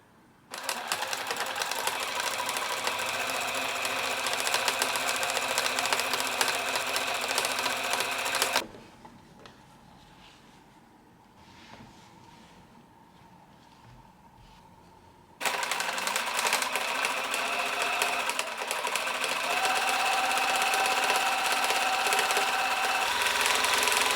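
A sewing machine runs in two long bursts of rapid, steady stitching, joining small fabric scraps into a French seam for an unlined drawstring pouch, with a quiet pause between the runs.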